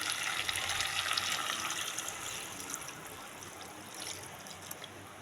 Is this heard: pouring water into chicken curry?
yes